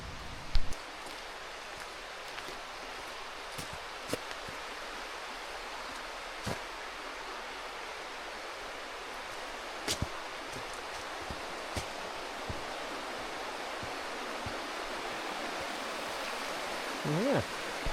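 Big Burn Falls in Scotland is heard as a steady, even rush of waterfall and stream water, continuous and moderately loud, with occasional faint clicks and footsteps from someone nearby.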